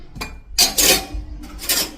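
Kitchen utensils and metal pots clink and scrape while home-made medicine is strained, giving several close, bright clattering bursts in quick succession.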